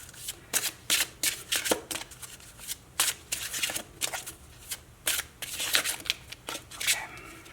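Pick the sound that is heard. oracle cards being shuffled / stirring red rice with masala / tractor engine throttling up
oracle cards being shuffled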